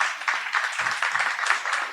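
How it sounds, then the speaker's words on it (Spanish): Audience applause welcoming a guest onto a stage at a Spanish-language science and tax talk event, a steady wash of many hands clapping close by, without speech. "Un aplauso, por favor."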